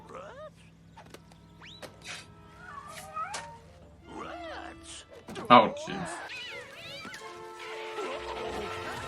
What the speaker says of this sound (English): Yep, a lot of cats. Crawling with cats.